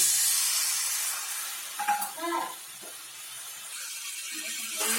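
Koi fish curry masala being stirred in a pan, with a steady soft sizzle and hiss throughout and a few brief scraping stirs in the middle, close and fairly loud, no talking.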